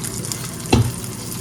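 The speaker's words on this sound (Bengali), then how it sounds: "এখানে মাছ ভাজাটা হচ্ছে" Fish frying in a pan, a continuous close crackling sizzle with one short louder pop of stirring or spatter partway through, no talking.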